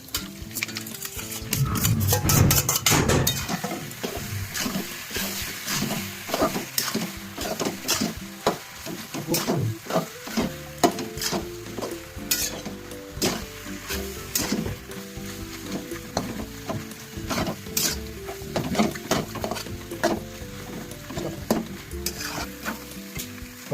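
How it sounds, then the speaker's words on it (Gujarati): Pasta being stirred and heated in a pan with pizza-pasta sauce and mayonnaise, giving a steady sizzle with scraping spoon strokes against the pan throughout, fairly close and without talk. "જ્યાં સુધી થોડા પાસ્તામાંથી વરાળ ના નીકળે ત્યાં સુધી એને ગરમ કરવા"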